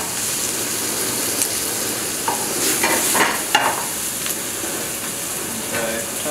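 Chinese broccoli hisses and sizzles in a hot pan with tofu noodles, a steady frying crackle broken by a few scraping stirs, loud and close, with no talking.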